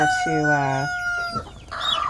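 Hens cluck inside a dark hen house and a rooster-like crow rises over it, close by, with a second burst of clucking near the end.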